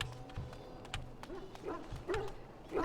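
A dog in the video game Dragon Age gives a few short, soft barks and yips at a moderate distance, separated by brief pauses over light game sounds.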